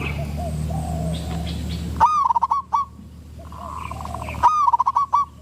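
A wild spotted dove repeats a short, quick run of hooting coos twice, loud and close, over a low background hum.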